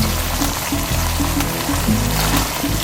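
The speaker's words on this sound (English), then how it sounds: "When the sound changes from simmering to sizzling, just like this, hear that?" Chicken and moringa sizzling in coconut milk in a pan, a loud, close, continuous crackling fry with small bubbling pops, and nobody speaking.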